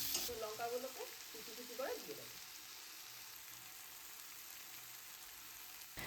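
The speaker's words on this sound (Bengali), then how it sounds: "এই যে তেল গরম হয়ে গেছে যার মধ্যে একটু জোয়ান দিয়েছিলাম আর কাঁচা লঙ্কা" Ajwain (carom seeds) and green chillies fry in hot oil in a pan, giving a steady, close sizzling hiss that holds throughout, slightly busier for the first two seconds.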